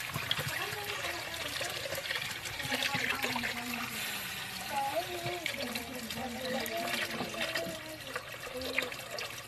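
Broth poured into a pot of Samar-style pancit makes a faint, soft trickle that runs continuously, with a low voice murmuring underneath.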